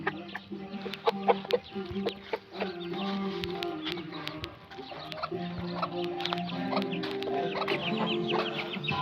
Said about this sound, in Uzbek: Mana xo'rozcha.